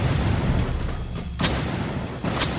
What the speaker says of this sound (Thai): โอ้โหระเบิดยืนใส่ตัวเองด้วย